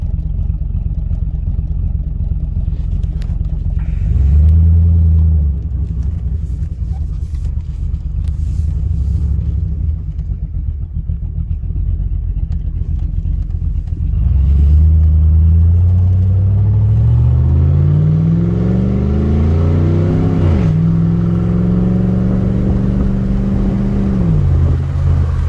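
A GM truck engine with a BTR Truck Norris cam and a factory torque converter rumbles close and loud, lumpy at idle, then revs up in rising pulls and settles between them.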